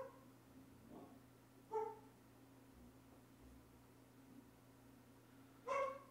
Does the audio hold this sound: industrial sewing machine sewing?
no